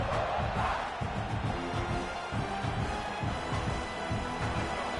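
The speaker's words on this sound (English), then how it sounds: "This crowd bringing the energy and noise early." Steady, dense roar of a large stadium crowd in a college football video game, Michigan at South Carolina, continuous and loud, with a rumbling murmur and no distinct voices standing out.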